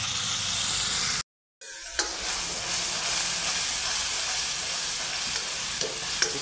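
Gravy poured into onions frying in hot oil for paneer chatpata, with a steady loud sizzle and hiss, a brief break where it drops out, then continuous frying crackle with a couple of sharp pops.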